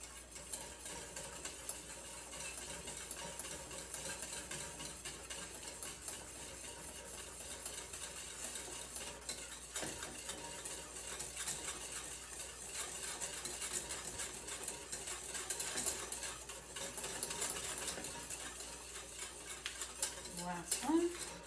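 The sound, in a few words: stirring butter into citrus curd in a pot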